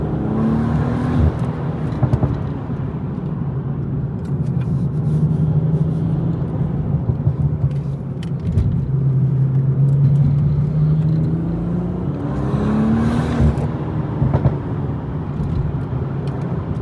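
A BMW M240i's engine drones steadily from the driver's seat on winding mountain roads, rising and falling through gear changes and throttle swells, loud and continuous with no talk.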